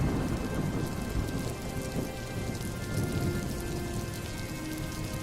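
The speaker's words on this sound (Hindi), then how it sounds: "बारिश की बूंदें थमती नहीं थी।" Steady, dense rain pours down continuously, a broad hissing wash with low rumbling underneath, loud and close throughout.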